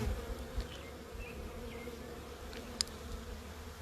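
Honey bees from a captured wild hive buzz steadily around the opened box, a continuous low drone with a few louder passes close by, and no voices.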